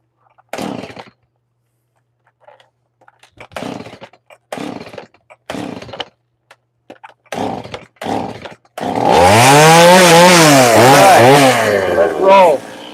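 Chainsaw carving wood for a bear carving: after several bursts of talk with pauses, a loud close chainsaw roars in, its engine pitch rising and falling as it revs and cuts.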